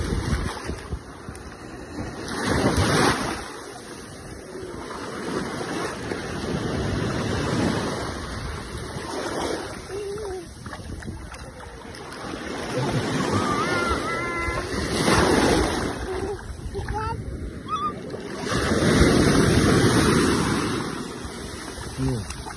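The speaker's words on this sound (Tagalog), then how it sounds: "Malakas na yung alo, no?" Strong ocean waves roll onto the beach at Al Mamzar Beach Park, rising and falling in rhythmic surges with gusts of wind across the microphone.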